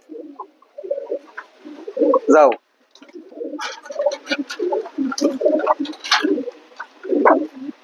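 Pigeons coo repeatedly in a close, gurgling rhythm during a feeding and watering session, with a person speaking briefly over the calls.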